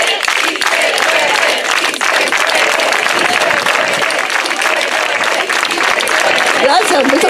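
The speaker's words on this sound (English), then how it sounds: "let's do it with a unified clap." A crowd at an organic farming and anti-pesticide rally claps steadily and loudly together, a dense wash of applause with voices chanting and calling out over it throughout.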